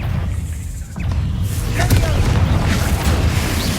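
A Confringo blasting spell explosion in Hogwarts Legacy, a deep booming blast that swells after a brief lull and rumbles on with low, sustained roar.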